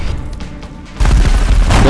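Burst of reaction-shot gunfire in the video game XCOM Enemy Within, a dense loud volley kicking in after a quieter opening second and rolling on with heavy booming thuds.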